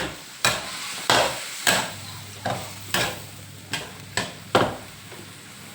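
Soft tofu and asparagus stir-fried in a splash of water without oil: a light sizzle punctuated by about eight loud, close spatula strikes against the pan at a loose, uneven rhythm.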